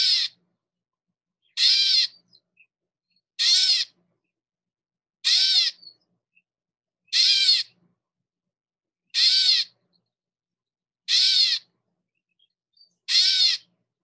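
Gray catbird mew calls, eight evenly spaced cat-like mewing notes about two seconds apart, clear and isolated against a silent background.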